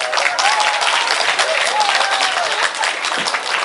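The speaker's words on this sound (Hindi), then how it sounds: "मतलब मैथमेटिक्स वाले ताली बजाएंगे" Audience applause at a happiness and wellness workshop session, a dense continuous wash of many hands clapping at steady loudness, with a voice faintly audible underneath.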